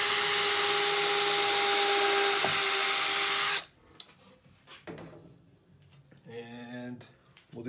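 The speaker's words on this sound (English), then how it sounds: "We're going to drill 2 holes" A power drill bores holes into the wood of a picnic table being built, a loud, steady whine for about three and a half seconds that cuts off abruptly, followed by a person talking and faint workshop clatter.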